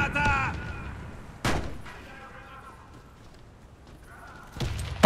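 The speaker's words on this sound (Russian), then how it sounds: "Осторожно, граната!" Two sharp, booming grenade blasts in the video game Warface during a bomb-defence round, one near the start and another near the end, separated by a quieter stretch of game noise and faint chatter.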